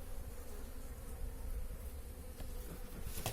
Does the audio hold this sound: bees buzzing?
yes